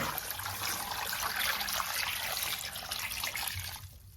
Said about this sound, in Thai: ตามด้วยน้ำเปล่าค่ะ